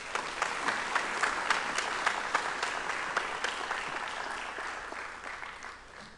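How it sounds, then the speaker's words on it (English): An audience at a spring commissioning ceremony applauding an honored guest speaker, steady mid-distance clapping from a crowd with a few sharper claps, fading toward the end. "please give a round of applause for our honored guest speaker, Major General Rafael Ribas."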